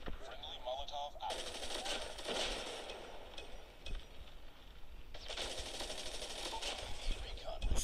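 Rapid gunfire from a weapon in a Call of Duty match, dense bursts of repeated shots with bright crackle, loud and continuous with game sounds and a voice talking over it.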